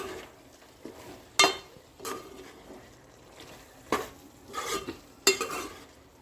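Spoon scraping and knocking in a pan while spices are mixed into chicken curry, several separate clinks and scrapes spaced a second or so apart over a faint sizzle.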